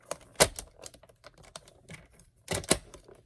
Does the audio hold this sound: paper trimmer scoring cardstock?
yes